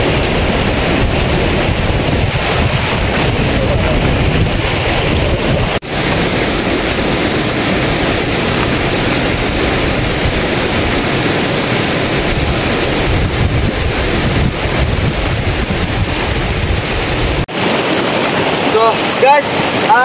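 Strong rushing river current approaching a hidden waterfall in Aguilar, Pangasinan, a loud, steady roar of churning water with wind buffeting the microphone throughout.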